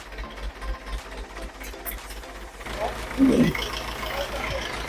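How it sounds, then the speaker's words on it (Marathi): A 1964 Russian tractor engine runs at a fairly faint, steady idle, with a rhythmic low chugging that continues under a voice speaking. "ट्रॅक्टर चालू झालाय फायनली"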